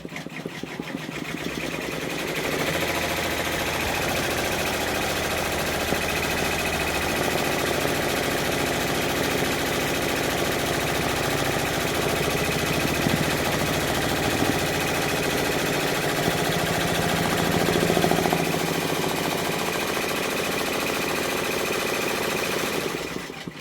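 A multi-needle embroidery machine stitches out a purple-on-top, red-backed design on a tile, a loud, steady mechanical chatter with a motor hum that runs unbroken for over twenty seconds and then stops.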